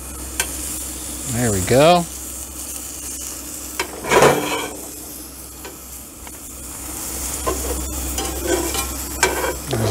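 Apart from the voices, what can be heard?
grilled cheese sandwiches frying in a pan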